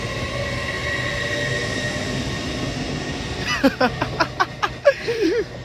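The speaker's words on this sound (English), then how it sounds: "Train passing, running an hour late." A delayed train runs past at Hitchin on the East Coast Main Line, heard as a steady rumble and rush of wheels and then a series of rhythmic clacks over the rail joints, with a voice speaking under it.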